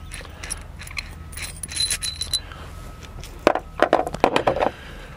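Hayman Reese anti-rattle, anti-theft hitch pin with key lock being pulled apart: a run of close metallic clicks, clinks and small rattles, quieter at first, then a denser cluster of sharp clinks.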